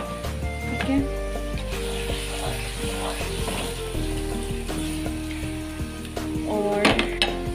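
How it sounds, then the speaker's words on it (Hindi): Dal keema fries in oil in a pot, a continuous sizzle punctuated by scraping stirs and clinks of a utensil against the metal, fairly close with no talk. "तो बस अब 5 मिनट्स तक जो है वो मैंने इसे भूनना है।"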